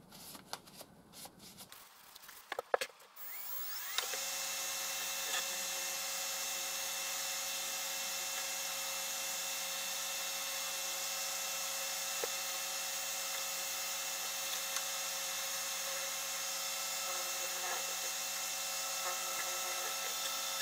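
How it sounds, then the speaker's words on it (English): A buffing wheel whirs steadily as it polishes wax into a homemade golf trophy, a constant high motor whine running alone after a few brief rustles and clicks at the start. "Give it a coat of polish and use the other half of the wheel."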